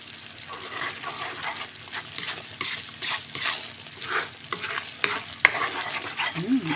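A glutinous rice biko mixture is stirred in a pan, giving continuous sticky scraping and squelching strokes with a faint sizzle underneath, close and steady.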